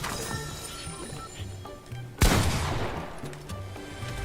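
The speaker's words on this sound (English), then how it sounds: "that's another new weapon, the explosive repeater rifle" Explosive repeater rifle in the Fortnite video game fires a single sharp, loud blast that decays over a couple of seconds, set against steady tonal game music.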